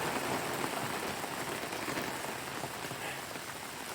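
Steady rain falling during a storm in Lake County, Michigan, near Luther and Baldwin, a soft continuous patter on surfaces heard without any talk.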